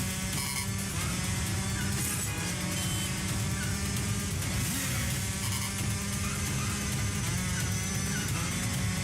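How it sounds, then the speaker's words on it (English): Truck chase in a Terminator video game: continuous game engine roar with layered music and electronic tones, loud and busy throughout, no talk over it. "we got the truck chase now"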